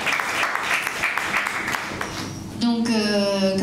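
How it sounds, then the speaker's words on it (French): An audience applauds the Radio Campus team at a live event, a steady wash of clapping that gives way to a voice speaking. "on applaudit, allez-y."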